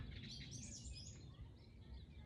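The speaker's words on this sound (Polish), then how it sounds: "Ale tu ptaki śpiewają, po prostu nie mogę." Birds sing outdoors, faint, quick chirps and twittering heard at a distance over a low, quiet background.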